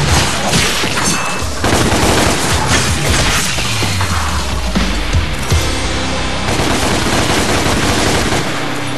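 Rapid bursts of machine-gun fire and gunshots in the DmC: Devil May Cry video game, loud and continuous with booming impacts and a falling tone midway, no voices.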